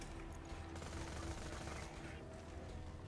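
Rapid assault rifle fire rattles in a steady, dense burst in Borderlands 2 gameplay, with mechanical clatter mixed in, continuous and fairly loud.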